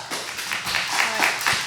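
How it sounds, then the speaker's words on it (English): Applause from an audience at a special board meeting, a brief burst of scattered hand claps with a few sharper individual claps, moderately loud and steady throughout. "Can we hold our applause, please?"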